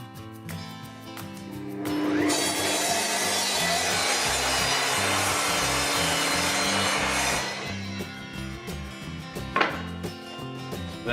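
An Evolution R255 sliding mitre saw cuts through wood, a steady loud saw whine lasting about five seconds that then winds down, with lighter handling knocks and clicks before and after.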